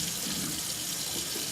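Water runs steadily from a tap in a continuous hiss, moderately loud and close, with no voices over it.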